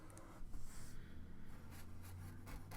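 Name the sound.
outlining a drawing with a Sharpie marker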